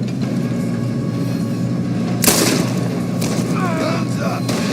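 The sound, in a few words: train running in a video game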